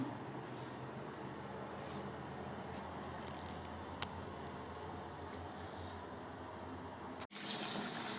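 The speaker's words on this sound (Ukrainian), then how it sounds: "Так виглядає фільтрація сусла. Сусло йде чисте, фільтр працює." Beer wort runs steadily through a filter while brewing a 1978-style Zhigulevskoe beer, a continuous gushing, tap-like flow that holds evenly for several seconds before a sharp click near the end.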